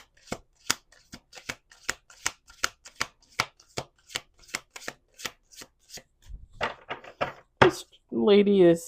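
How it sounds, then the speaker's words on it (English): A deck of playing cards shuffled by hand, a run of sharp regular snaps and riffles up close, followed by a few rustles before a voice begins speaking at the end. "Last shuffle"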